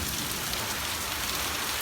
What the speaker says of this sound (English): I'm standing out here in the pouring rain doing a video on probability.